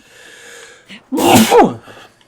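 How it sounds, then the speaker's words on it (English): A person lets out one loud, forceful sneeze, with a short sharp intake of breath before it and a quiet exhale after. "And he sneezed very badly."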